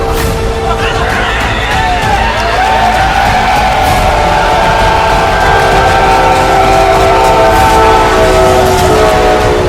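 A train rolls past loud and close through the whole stretch, with a sustained horn-like tone over rumbling wheels, near a Survivor-style game vote count in Grand Rapids; people talk faintly underneath.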